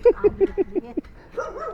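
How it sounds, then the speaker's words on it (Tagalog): A small dog barks about six times in quick, high yaps, then whines and grumbles more softly. "Napatakbo sa maliit na aso."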